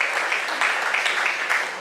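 Audience applause at a New Orleans Jazz Fest event, a steady dense patter of many hands clapping from a crowd, continuous and fairly loud throughout without a break.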